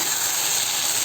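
Okra frying in a hot pan for a fried okra dish, giving a steady close hiss of sizzling that runs unbroken through the short clip with no talk.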